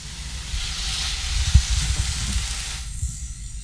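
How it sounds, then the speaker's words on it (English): A steak laid into a very hot pan sizzles loudly and steadily, a bright continuous hiss of searing fat with low bubbling crackle beneath, heard close up and alone for a few seconds before abruptly thinning out. "And it should really sizzle."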